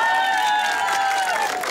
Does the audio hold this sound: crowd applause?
yes